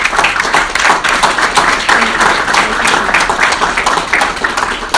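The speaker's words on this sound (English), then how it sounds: "So let's give Cindy a big round of applause and bring her on." Loud, sustained applause from a large crowd, dense clapping filling the whole stretch without pause.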